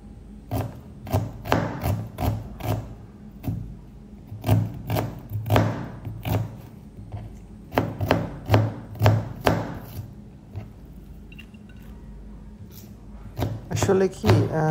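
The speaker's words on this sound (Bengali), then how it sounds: "এরপরে পেঁয়াজ মরিচ কেটে নেব।" A knife chopping onions and chillies on a board, with rapid bursts of sharp close taps separated by short pauses, and a voice speaking between the strokes.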